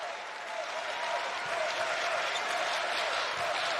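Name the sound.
basketball crowd cheering at a state championship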